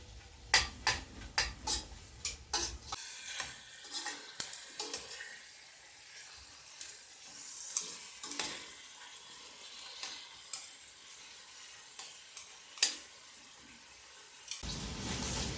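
Pork ribs brown in a pan for a rib ragu, giving a close, steady sizzle broken by sharp clatters and scrapes as they are moved, with a running-water wash near the start and end and no voices.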